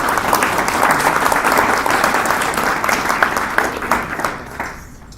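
An audience applauds steadily to welcome a speaker at a FACTS event in Chicago. The clapping is dense and sustained and thins out near the end.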